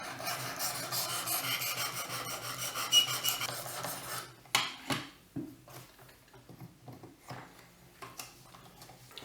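A knife blade is drawn across a 600 grit sharpening stone in a clamp system, giving a soft continuous rasping scrape that breaks into short separate strokes and light taps, close and fairly quiet.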